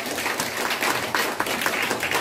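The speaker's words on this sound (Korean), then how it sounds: "박수 해주시겠습니다." Congregation applause fills a church during a founding-anniversary and dedication service, a dense, steady wash of many hands clapping together for a couple of seconds.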